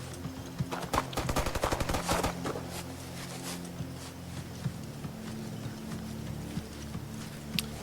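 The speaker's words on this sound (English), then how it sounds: "Let's do the machine gun." A machine gun fires in a WWII military simulation video game, with a rapid, loud burst of shots over the first two seconds, followed by quieter scattered thuds and distant noises.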